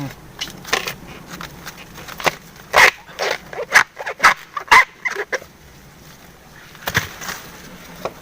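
Dog barking outdoors in hill country, a series of sharp irregular barks, some loud and close, scattered among rustling and voices.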